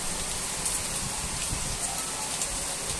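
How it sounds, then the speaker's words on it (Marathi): Heavy rain pours down suddenly at evening time, a dense, continuous hiss of drops striking surfaces close by, steady and even for the whole stretch with no voices. "मोठा पाऊस येतोय."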